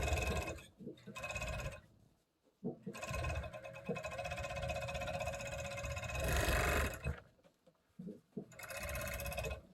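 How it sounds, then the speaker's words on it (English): A serger runs a seam along the palm of a mitten, whirring in several bursts with brief stops between them, close and fairly loud. "Go through the serger."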